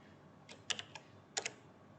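A computer keyboard being tapped in a few quick, light keystrokes, including a Ctrl+W shortcut, with irregular clicks bunched in pairs and small clusters against a quiet background.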